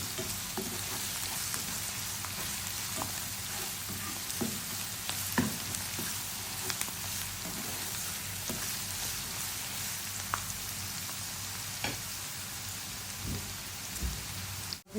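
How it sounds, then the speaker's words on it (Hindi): Chicken with okra and masala fries in a pan, giving a steady close sizzle with scattered small pops and crackles throughout. "और हम इसको अच्छे से इसके साथ फ्राई करेंगे।"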